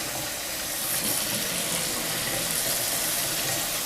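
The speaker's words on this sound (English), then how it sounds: "Yes, I can feel the water is hot, and the other side is cold water." A newly installed WOWOW kitchen faucet runs steadily into the sink, a loud, continuous hissing gush of water heard close up with no talk.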